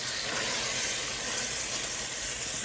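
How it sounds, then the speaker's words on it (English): Trinity vegetables cook for shrimp creole in a hot pan, giving off a steady, even sizzle and hiss that fills the whole moment without a break, fairly close and with no talking. "you can hear that sizzle in the pan, right?"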